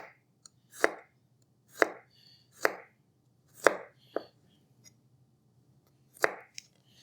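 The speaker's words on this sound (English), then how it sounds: "I'm just going to slice it." Leeks sliced with a sharp knife on a cutting board: about seven crisp, separate chops spaced roughly a second apart, close and clear against a quiet background.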